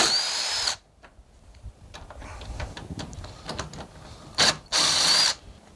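A power tool, likely an impact driver or drill, removing the headlight bolts on a Dodge Ram 1500 in bursts: one long whirring run, a pause with faint clicks and handling, then a short burst and another sustained run, close and loud.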